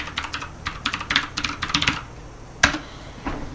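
Computer keyboard typing while using a phone emulator running Chrome, a quick run of close, crisp key clicks in uneven bursts with brief pauses, one sharper keystroke near the end, no voices.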